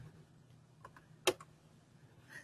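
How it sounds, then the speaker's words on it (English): A few sparse computer keyboard taps sound in a quiet room, including a single sharp, louder key press in the middle, with soft faint clicks around it. "I'm just using the tab key on my keyboard, by the way."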